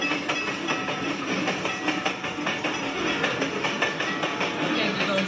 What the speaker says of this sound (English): A train sounds like this.